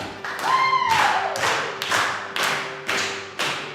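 Audience at an improv comedy show clapping along to a hoedown: loud, evenly spaced single claps in a steady beat, with a brief sung or whistled tone early on.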